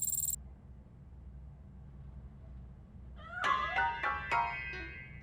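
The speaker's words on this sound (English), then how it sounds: "That cat must be hiding inside." A cat in the RoboCop: Rogue City video game, hiding inside a piano, meows several times in quick succession after a few seconds of quiet. The cries are fairly close and clear over a faint low background hum.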